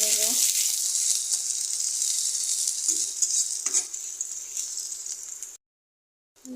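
Onions fry in hot oil in a wok, giving a bright, steady hissing sizzle with a few faint stirring clicks, close up, before the sound cuts off abruptly near the end.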